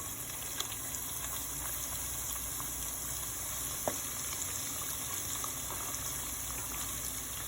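Chicken gizzards fry in hot grease with a steady, faint hiss of sizzling and a few soft pops.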